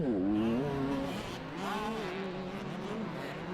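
Two-stroke motocross dirt bikes racing, among them a 27-year-old Yamaha YZ250, their engines revving up and down in rising and falling whines, loud and near, with no talking.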